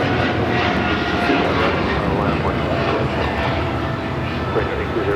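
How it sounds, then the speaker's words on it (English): A Korean Air Cargo Boeing 777 Freighter takes off from Los Angeles LAX, its engines a loud, steady roar that holds broadly for the whole stretch without letup. "This is Korean Air Cargo 8208 taking off to Seoul on the 777 Freighter"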